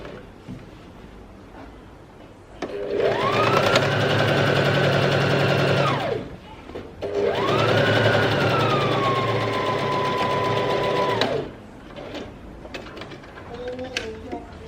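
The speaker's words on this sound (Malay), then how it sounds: "Lepas tu kita jahit sisi, jahit cantum sisi skirt kita ni." Electric sewing machine stitching the side seam of a skirt, two long steady runs of whirring motor several seconds each, separated by a brief pause, with quieter handling sounds around them.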